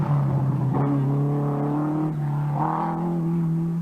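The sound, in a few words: rally car driving on a stage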